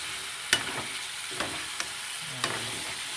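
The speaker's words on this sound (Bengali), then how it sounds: "মাংসগুলো দিয়ে আবারও ভালো করে নেড়েচেড়ে মিশিয়ে নিতে হবে।" Country chicken being stirred and fried with spices in a pan, a faint steady sizzle broken by a few sharp scrapes and knocks of the spoon, quiet and close.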